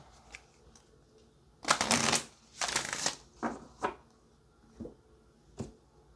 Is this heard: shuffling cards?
yes